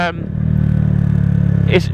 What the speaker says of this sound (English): you've got a bit more of a loud exhaust